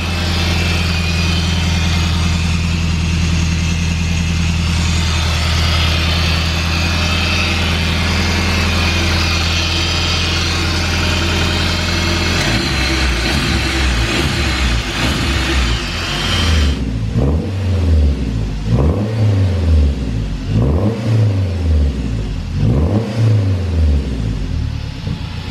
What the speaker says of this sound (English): One of the pulleys on that engine is making a ton of noise.